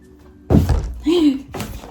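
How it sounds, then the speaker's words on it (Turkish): A phone drops and lands with a single loud, close thud, followed by a short scuffle and a voice speaking right after. "Telefonum düşüyordu."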